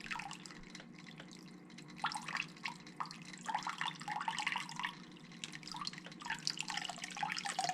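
Water splashing and trickling steadily into a gallon fish tank, with irregular drips and gurgles, fairly close, no voices.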